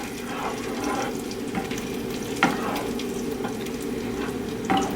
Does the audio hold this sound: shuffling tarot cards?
no